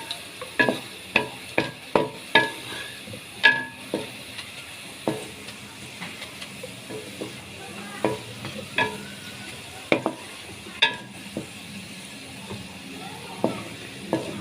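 Chopped onions frying in a pan for a chicken feet (murgi ke panje) curry, stirred until brown: repeated scraping stirs over a steady low sizzle, close and moderately loud, with no talking.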